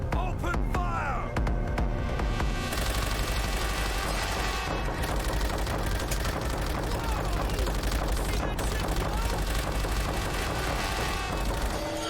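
Dense gunfire and explosions fill a World at War air raid on Japanese ships: a steady loud barrage of shots and booms, mixed with game music, with talk over the top.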